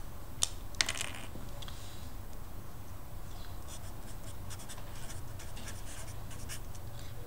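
Faint scribbling strokes come through in scattered bursts as a conservation of energy statement is written out by hand, with two sharp taps early on and a steady low hum throughout.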